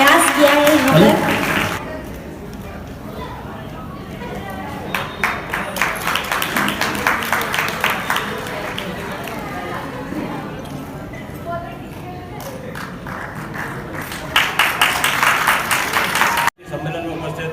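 An audience at a community gathering claps in bursts of loud, dense applause. Quieter stretches with talk fall in between, and the clapping swells again near the end.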